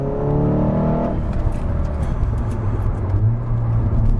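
Stage 3 Volkswagen Golf R with a DSG gearbox, tuned to 530 bhp, driving at speed: a steady, loud engine drone and road roar, with a harmonic whine that shifts in pitch partway through.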